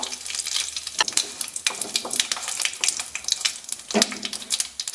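Dried red chillies and curry leaves crackle in hot oil with mustard seeds, a fairly loud, close sizzle broken by sharp pops and spatters throughout.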